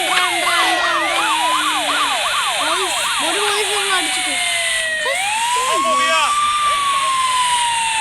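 Police car siren in the Indian Theft Auto video game, rising and falling continuously: a fast yelping warble first, then a slower drawn-out wail, loud and steady throughout with no voices.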